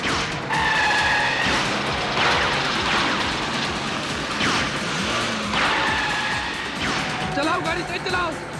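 A car is driven fast, its engine roaring with repeated tyre squeals and skids, loud and close, while voices shout over the chase.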